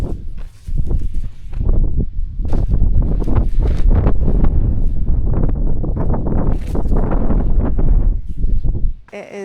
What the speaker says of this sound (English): It is a windy morning